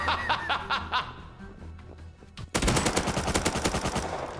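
A pump shotgun fires in a first-person video game, a rapid string of loud, close blasts breaking in after a stretch of chuckling and quieter game noise.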